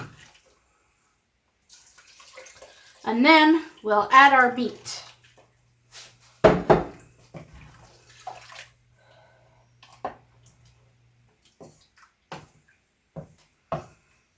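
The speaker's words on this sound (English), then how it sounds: "Adding about 2 more cups of water to this." Water poured into a big pot of homemade chicken stew, a steady low pour running behind a voice talking, with scattered clinks and splashes after it.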